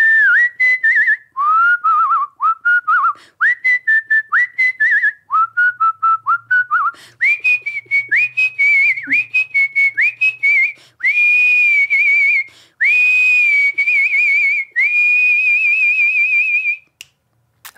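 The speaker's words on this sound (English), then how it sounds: "give us just a blast of something you're really good at whistling" A person whistles a melody from Kill Bill, clear, close and loud, with short rising phrases and held notes, backed by steady finger snaps keeping the rhythm throughout, alone without talk.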